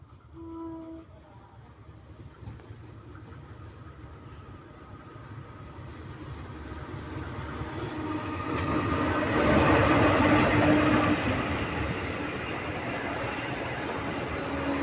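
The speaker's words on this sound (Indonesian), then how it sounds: "Kali ini ada KA Bagas Relo S10 ya, menggunakan lokomotif CC" Passenger train Bagas Relo S10, hauled by a CC 201 diesel locomotive, approaches and rolls past outdoors, its rumble building to a peak midway and then holding as a steady wagon roar, with faint distant chatter early on.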